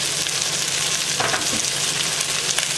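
Vegetables sizzle and fry steadily in a pan with a little oil, a continuous close crackle with occasional stirring scrapes, no voices.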